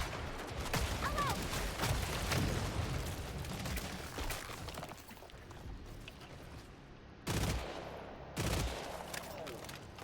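Pistol gunfire in a hard-difficulty video game, a series of sharp single shots spaced unevenly through dense game noise, with two louder close bursts near the end.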